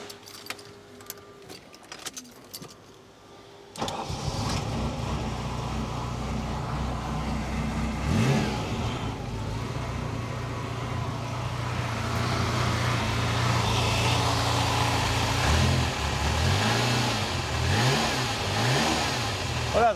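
A Ferrari 328 GTS engine that has stood unused for about 15 years cranks and fires after a few seconds of key and starter noise. It settles into a loud, close, uneven running idle with a few blips of revving.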